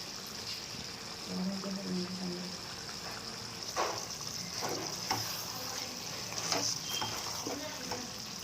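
Chicken biryani spices (turmeric, coriander powder, cumin powder, garam masala, chili) being stirred and fried in a pan, a steady close sizzle broken by a few brief scraping stirs.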